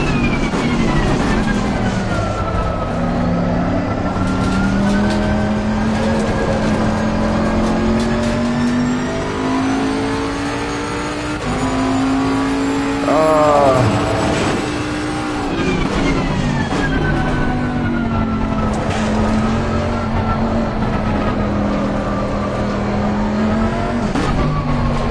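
A Mercedes race car engine in the FIA Motorsports Games racing video game drones steadily, rising and falling through gear changes with a sharp downshift burst midway, loud and continuous with no talk.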